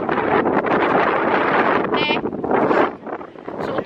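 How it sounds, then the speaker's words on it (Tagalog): Strong wind buffets the microphone in loud, continuous rumbling gusts, easing briefly near the end. "Sobrang mahangin."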